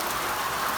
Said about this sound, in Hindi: अब मौसम भी ख़राब हो चुका है, बारिश हो रही है बहुत ज़्यादा